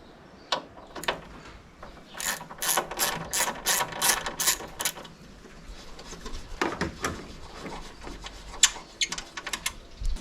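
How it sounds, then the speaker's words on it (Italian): Ratchet wrench loosening a 10 mm bolt on the hood of a Nissan Qashqai J11, with quick clicking bursts of ratcheting, close and crisp, between short pauses and occasional clanks. "Andiamo a rimuovere con una 10 questo bullone."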